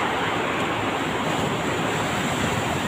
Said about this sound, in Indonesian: kenceng banget ombaknya